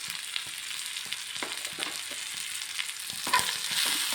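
Chili powder and coriander powder frying in a pan for butter chicken, a steady soft sizzle with light irregular scrapes and taps of stirring, close and alone with no talk.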